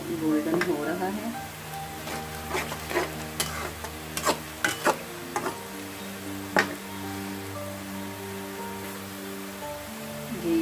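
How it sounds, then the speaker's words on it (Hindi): Onions brown in a pan for spicy chicken biryani, a low steady sizzle with occasional clinks of a stirring spoon, under someone speaking. "सबसे पहले हम ब्राउन करते हैं प्याज"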